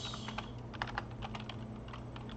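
Quick, steady typing on a computer keyboard, entering a coupon page web address for a party rentals business site; light, even key clicks run throughout over a low background hum, with no talking.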